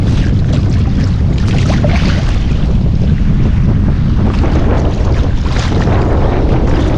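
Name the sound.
strong sudden amihan wind on a boat at sea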